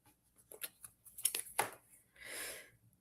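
Tarot cards being shuffled by hand, a quiet run of short papery flicks and riffles followed by a softer sliding rush of cards.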